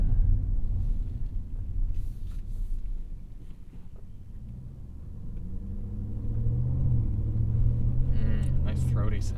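2022 Audi SQ7 twin-turbocharged V8 rumbling as it accelerates, a low, throaty engine drone building steadily, with people talking in the cabin.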